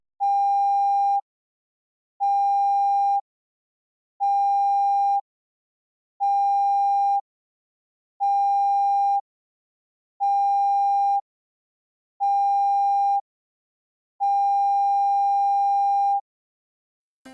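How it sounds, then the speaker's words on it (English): A ship's general emergency alarm sounds seven short blasts followed by one long blast, a clear steady electronic tone in an even rhythm with silence between blasts and no talk. "This signal, 7 short blasts and 1 long blast of the ship's alarm, is the general emergency signal"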